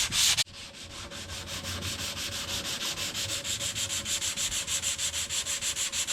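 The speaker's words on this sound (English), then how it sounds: "We'll just hit it with a little hand sandpaper here." Sandpaper is rubbed by hand over a wooden cajon box built from scrap wood, making a steady rhythm of close, rasping back-and-forth strokes after a brief louder scrape at the start.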